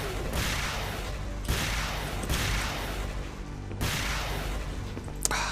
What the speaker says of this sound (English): has Mackie just muted the in-game explosions?